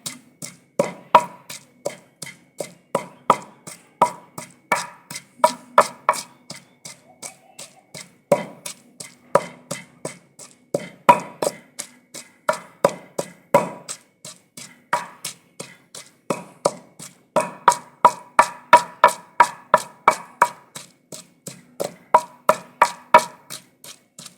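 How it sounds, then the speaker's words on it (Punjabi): Garlic and onion pounded in a mortar with a steady series of sharp, evenly spaced thuds and knocks, close and loud, continuing without pause and with no talking. "ਲਸਣ ਗੰਢਾ ਆਪਾਂ ਕੁੱਟ ਲਿਆ"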